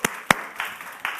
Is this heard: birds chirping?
no